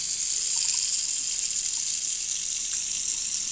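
Water runs steadily from a new gooseneck sink faucet, a continuous near hiss and splash with no pauses.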